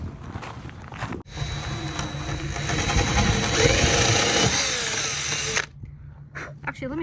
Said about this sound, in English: Let me grab my drill here and drill out these holes.